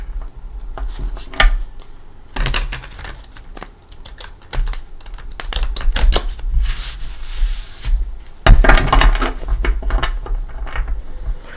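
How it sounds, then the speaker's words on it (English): Crisp, irregular bursts of card riffling and shuffling, close up, with short pauses between rounds and no talking. "I am going to go ahead and give it a couple shuffles."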